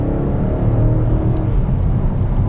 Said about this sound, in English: gave it about half throttle right there, and it just gets up to speed so fast